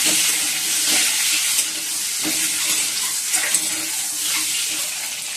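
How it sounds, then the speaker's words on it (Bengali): Eggs frying with turmeric in a pan for khichuri, a steady close sizzle with small crackles and the occasional clink of a utensil, no talking. "চলো ডিমগুলো তো দিয়ে দিচ্ছি, একটু হলুদ দিলাম, ডিমটা ভেজে নিচ্ছি"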